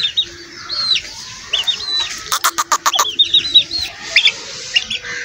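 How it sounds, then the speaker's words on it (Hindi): Young chicks of a Cheena rooster from a Purbana bloodline peep with rising chirps, mixed with clucking and a quick run of sharp fluttering bursts near the middle, fairly close against a low background hum. "ये हमारे जो चीना मुर्गा है उसके बच्चे हैं।"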